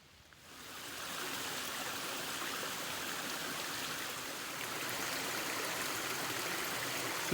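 Cave Creek at a trail crossing in Alabama, a steady broadband rush of flowing stream water that swells slightly after the first second and holds at an even, close level with no voices.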